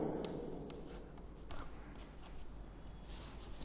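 Chalk or marker scratching across a classroom board as a chemistry equation is written out, a steady run of short strokes and taps with light room noise and no talking.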